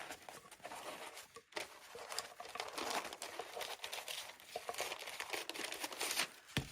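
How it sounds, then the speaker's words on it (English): Scissors cutting around a shape in paper for a decoupage craft, a quick run of crisp snips and papery crinkles, close and fairly faint. "I'm just gonna cut around to get the shape-ish that I want"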